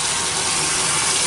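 A vintage 1981 Whirlpool belt-drive washer fills with water, a loud, steady rushing gush of water pouring into the tub, heard up close and alone.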